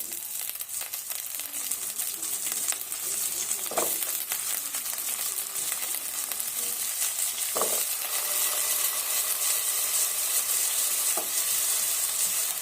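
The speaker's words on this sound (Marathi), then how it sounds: "ह्यात आता आपल्याला बटाट्याचे काप पण परतून घ्यायचं आहे" Potato slices fry in a pan for spiced masala rice, giving a continuous close sizzle and crackle with a few sharp utensil clicks. The sound holds steady and loud, with no voices.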